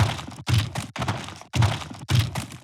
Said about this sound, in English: Now here you got the hit sound, which is just some short hit effects.